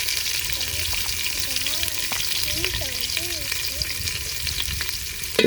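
Garam masala, chopped onion and green chilies fry in mustard oil for a rainy-day village khichuri, making a continuous close sizzle with stirring scrapes, while faint chirping sounds drift in the background.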